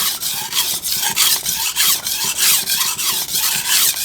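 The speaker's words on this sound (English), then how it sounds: "So I'm just drawing this whole edge back a little bit." A damaged Shun kitchen knife edge scraped along a coarse 240 grit ceramic sharpening stone, with steady rhythmic gritty strokes, roughly two per second, loud and close with no talking.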